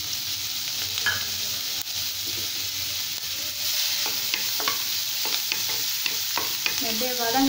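Finely chopped onions sizzle and crackle steadily in a hot pan, with occasional stirring scrapes and small pops throughout.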